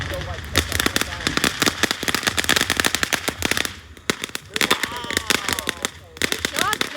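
Neighborhood fireworks rattle off in a rapid string of sharp cracks and pops, dense and continuous, with a brief gap before more bursts and whistling, while people talk nearby.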